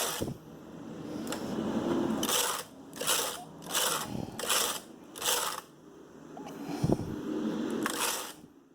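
A Brother knitting machine making tuck lace, its carriage sweeping back and forth in repeated rattling, clacking passes with short pauses between strokes, close and moderately loud.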